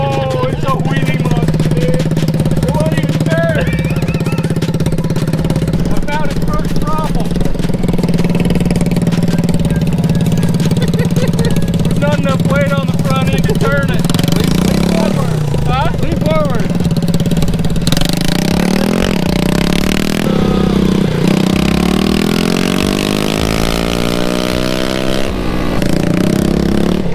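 A rat rod wagon's engine runs and revs nearby, a loud steady idle rising into several throttle blips and a longer climbing rev toward the end, with faint voices at times.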